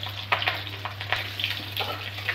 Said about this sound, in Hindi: तेल डालेंगे 2 चम्मच, फिर 5 फोड़न डालेंगे, फिर हरी मिर्च डालेंगे